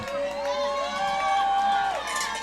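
A crowd cheers and shouts at a high school football game between Arlington and Lucas, a steady roar of many voices with whooping rising over it, and nearby talk blended in.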